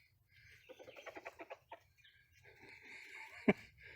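A rooster clucks to a hen over food in a quick run of soft, rhythmic notes, then a sharper call and a brief loud click, with quiet outdoor ambience.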